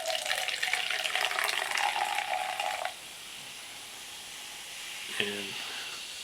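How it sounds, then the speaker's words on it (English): Mountain Dew Amp Game Fuel Charged Berry Blast pours into a cup as a steady fizzing hiss for about three seconds, then stops abruptly, leaving faint carbonation crackle and one small knock from the cup. "Now let's go ahead and try to pour some into this cup."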